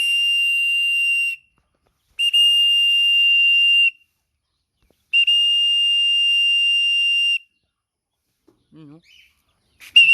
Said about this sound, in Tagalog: Tawagin natin ng ano, sipol.